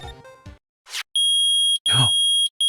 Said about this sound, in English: It's beeping. The metal detector found something.